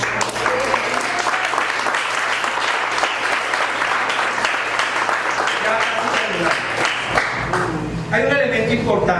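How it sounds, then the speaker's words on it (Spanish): A church congregation applauds together during a worship service, a loud, steady wash of clapping that keeps going for several seconds, with voices mixed in beneath it. "Un aplauso al Rey entonces."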